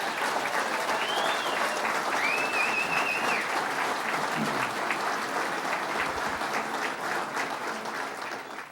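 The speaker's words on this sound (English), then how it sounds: "And let's give them another round of applause." Audience applause at a public event announcing the Dunkirk power plant repowering, a sustained, even wash of many hands clapping that holds steady throughout with faint crowd noise underneath.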